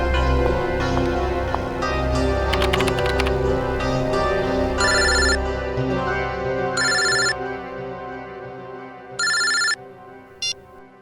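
A telephone rings in a crime-drama police office: several short, bright bursts repeat a few seconds apart. It is heard alone after an opening stretch of music and low rumble.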